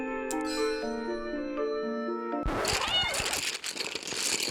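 In the video game A Little to the Left, soft chiming music plays, then a cat meows amid a burst of clattering, rustling game sounds partway through.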